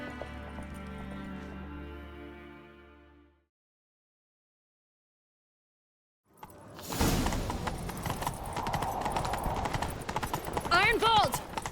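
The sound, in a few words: horse galloping hooves in The Witcher 3 video game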